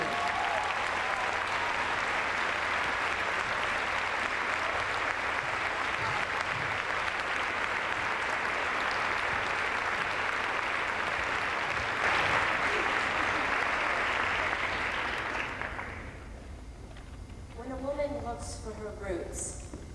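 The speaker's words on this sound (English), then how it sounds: "join us in a round of applause for our state champion in verse reading" Sustained audience applause for a state champion in verse reading at a high school speech finals, dense and steady for about fifteen seconds before fading, followed by a few faint spoken words.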